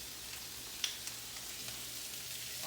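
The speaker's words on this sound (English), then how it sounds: "our veggies are getting nice and sizzled, and they're all covered with our olive oil" Vegetables, including asparagus, sizzle steadily in olive oil in a pan, a soft, even hiss with a faint tick or two, with no voices.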